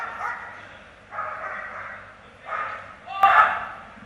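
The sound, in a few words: police dog barking while guarding a bag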